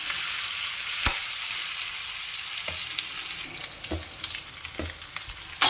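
Ginger and garlic frying in a pan for a jackfruit curry, a bright continuous sizzle close by with several sharp clacks and scrapes of a spoon stirring against the pan.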